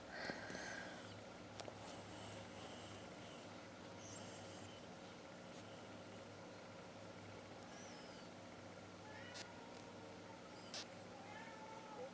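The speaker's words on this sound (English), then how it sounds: "Oh, I hear a kitty." A cat meows faintly a few times in the background over a steady low hum, with no talking.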